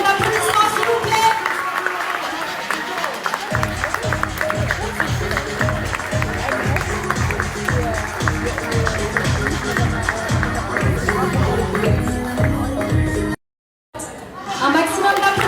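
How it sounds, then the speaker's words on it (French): Audience applause in a Paris hall, a long, steady run of many hands clapping mixed with crowd chatter, strong and continuous before cutting out briefly near the end and resuming. "Un maximum d'applaudissements s'il vous plaît"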